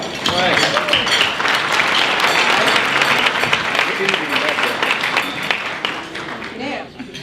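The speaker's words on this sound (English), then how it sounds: "let's give Heritage Hunt a round of applause" An audience at a chamber of commerce ball in Gainesville gives sustained applause. Dense clapping stays loud for several seconds and then tapers off near the end, with a voice briefly heard.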